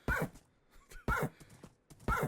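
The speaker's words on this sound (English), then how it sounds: "Oh my gosh, the horse!" A Minecraft horse gives three short, close neighs spaced about a second apart, each a sharp burst with a whinnying tail, and no talk over them.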